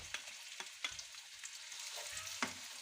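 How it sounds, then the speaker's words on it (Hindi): Onions fry in leftover oil after cauliflower in a pan, giving a steady, fairly soft sizzle broken by a few sharp stirring scrapes, with no talk. "बकाया बचे ऑयल में हम प्याज फ्राई करेंगे"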